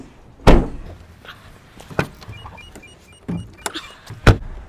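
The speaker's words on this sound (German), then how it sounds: "Ich mache hier alle Türen mal wieder zu." Doors of a 2020 Toyota Proace City panel van are shut one after another, several loud solid thunks and latch clicks spaced across a few seconds, with quieter handling sounds between.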